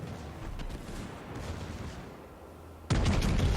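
Battleship secondary guns fire in the World of Warships video game, a steady rumbling gunfire bed broken by a sudden loud burst of blasts near the end.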